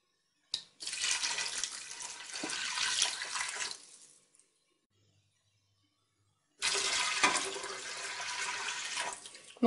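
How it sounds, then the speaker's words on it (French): Two large juice glasses of water poured into a pot of lentils for a Moroccan-style lentil dish, a loud splashing pour lasting a few seconds, a pause, then a second full pour. "je vais rajouter 2 grands verres d'eau"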